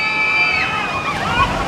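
Water sloshes and splashes against a boat on the Monsoon Falls ride at Six Flags Discovery Kingdom, a loud, steady wash that fills the short moment, with no talk over it.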